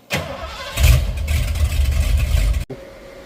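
A 1986 Ford F150 with a 351W V8 cranks briefly and fires, then settles into a loud, rough idle close up before cutting off abruptly near the end.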